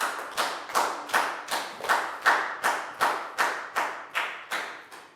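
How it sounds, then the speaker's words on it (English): A primary school maths class claps for a pupil in a slow, steady rhythm of about eleven loud, evenly spaced claps, each sharp and close with a short decay and no talking. "High five and a big round of applause for Pat,"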